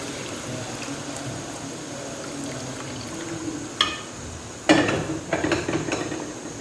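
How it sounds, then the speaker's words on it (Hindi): Beef yakhni stock poured into a cooking pot for pulao, quiet liquid trickling followed by a few sharp clanks and splashes of metal utensils near the end, no talk. "अब जो मैंने यखनी बना के रखी है वो डाल देंगे।"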